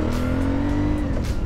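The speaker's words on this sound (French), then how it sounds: "le frein moteur il met des coups mon ref" An Aprilia Shiver 900 motorcycle, restricted to 35 kW for A2 licences, drones loudly and close under engine braking, its engine note holding steady and then dipping slightly as it decelerates, with no speech.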